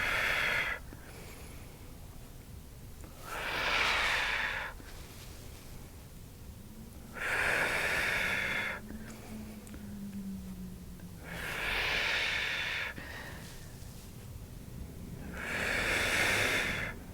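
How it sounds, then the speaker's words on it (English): Slow, deep breathing during a Pilates oblique curl, with four or five long airy breaths spaced evenly about four seconds apart, close and moderately loud over a quiet background. "Take a deep breath in, breathe out."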